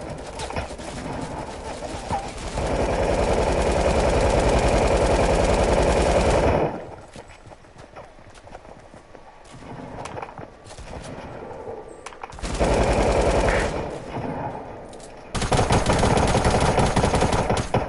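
Loud, sustained gunfire from the video game Fortnite, with bursts from about 0 to 6.5 seconds and again near 12.5 and 15.5 seconds, separated by quieter stretches.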